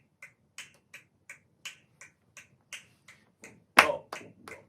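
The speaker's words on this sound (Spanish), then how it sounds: "Vamos a hacer ahora un pequeño ejemplo, en este caso sin música, solamente con una base de palmas a 3." Flamenco palmas for bulerías: a dozen crisp, sharp hand claps in a steady rhythm with no music, close and clear, with one louder accented clap near the end.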